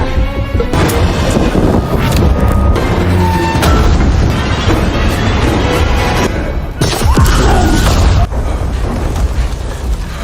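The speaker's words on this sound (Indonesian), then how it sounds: "Melihat ledakan yang begitu dahsyat" A massive explosion from a film's action scene, loud and sustained with rumbling booms and crashing debris throughout, a fresh blast bursting out midway and again near the end, with no talk over it.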